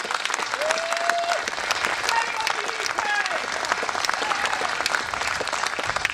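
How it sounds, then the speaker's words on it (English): An audience at an outdoor political festival applauds with steady, dense clapping throughout and a few cheers and whistles mixed in, while a speaker's voice carries faintly over it. "Yes, they deserve your applause."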